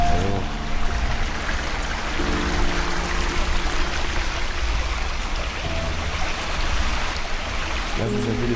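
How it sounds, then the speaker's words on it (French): A small stream flows into the Meuse river, a steady, continuous rush of running water that fills the whole stretch at an even level with no voices. "là, vous avez le petit ruisseau qui se jette dans la Meuse."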